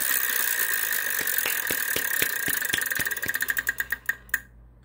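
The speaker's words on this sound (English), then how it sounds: "And whenever you're ready, Melissa Altro, spin the wheel." A Wheel of Fortune game show wheel spins with a steady stream of ticking clicks that slow and spread apart, ending in a few final clacks before stopping, with no talking.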